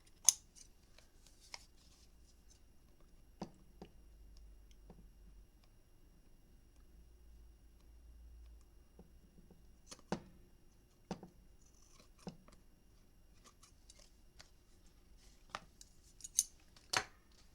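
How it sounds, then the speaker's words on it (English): Scissors trimming paper overhangs on a hutch and memory book craft project, heard as sparse, quiet, isolated snips scattered across a near-silent background. "let's go the other side and let's trim any overhangs"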